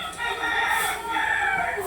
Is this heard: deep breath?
no